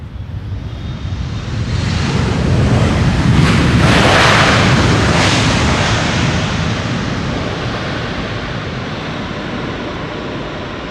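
A large passenger jet passes at Amsterdam Schiphol Airport with a loud, broad roar that swells over a few seconds and then slowly fades while staying strong, with no speech.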